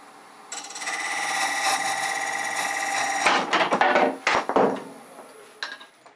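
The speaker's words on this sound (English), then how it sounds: "you can see where I got a catch where it's just too much steel on that dried wood" On a wood lathe, a turning chisel catches on dried wood while cutting a bead: a steady scraping whir gives way to several sharp, loud knocks and clatters close by, then quieter rattling.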